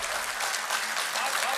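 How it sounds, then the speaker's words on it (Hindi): A crowd at an All India Mushaira poetry gathering in Ludhiana applauds the poet Vishal Bagh, a dense, steady wash of clapping that continues for the whole stretch with a voice speaking over it. "जोरदार तालियां यार विशाल भाई के लिए"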